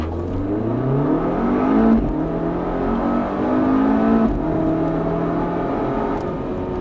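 A Volvo V60 Polestar with an eight-speed Geartronic gearbox launches at full throttle. The engine roars and climbs in pitch through several quick upshifts, loud and close, with no talk over it.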